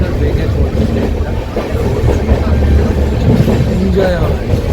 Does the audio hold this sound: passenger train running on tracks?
yes